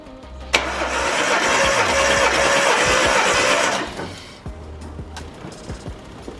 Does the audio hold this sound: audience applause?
no